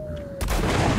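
Gunfire in the shooter video game Metro: Last Light, a sudden loud burst starting partway through after a quieter lead-in with a steady tone, then dense sustained noise through the rest.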